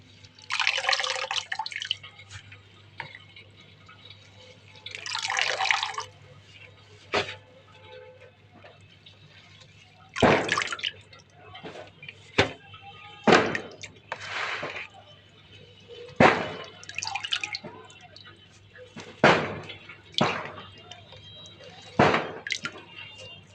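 Water drips and trickles from chard sitting in a kitchen strainer, coming in irregular bursts of splashing and dripping with quieter pauses between, close and moderately loud.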